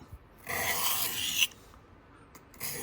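Dull knife blade drawn across a Sharpal diamond sharpening stone, a close, dry rasping stroke lasting about a second, then a brief second scrape after a pause.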